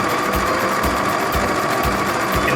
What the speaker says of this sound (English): Then I take it right over to the sewing machine and sew the hands and arms